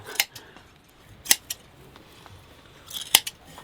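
Scissors snip during a haircut in a rural shepherd family's home, with a few sharp metallic clicks spaced irregularly over quiet background.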